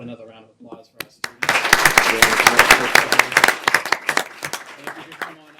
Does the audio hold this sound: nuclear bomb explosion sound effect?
no